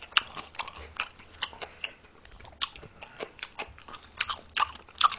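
Bossam pork being chewed close up with wet lip smacking, a rapid irregular series of crunchy bites and sticky mouth clicks repeating throughout.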